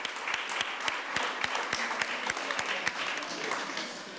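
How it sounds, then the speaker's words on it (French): An audience at a community participatory budget event in Dieppe applauding, a moderately distant patter of many hands with a few sharper individual claps, continuous and fairly even. "Bonne main d'applaudissements"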